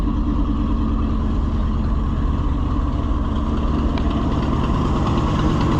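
A 1969 Ford F600 truck with a 330 V8 idles close by, a loud, steady, even engine rumble with no change in pace and no voices.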